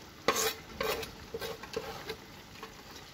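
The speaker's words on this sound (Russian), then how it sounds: "Зелень перемешаю с чесноком, чтобы вкус чеснока хорошо отдал" Chopped greens and garlic are stirred in a cooking pot, giving a few soft, quiet scraping and clinking strokes over a faint sizzle, close up with no talking.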